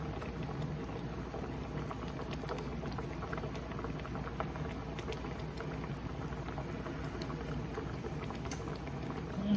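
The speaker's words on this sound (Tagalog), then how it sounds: "kaya pabayaan lang muna natin yan na kumulo ng kumulo yan" Sinigang na tuna soup with fish, vegetables and tomato boiling steadily in a pot, a continuous close bubbling and simmering that stays even throughout with no talk.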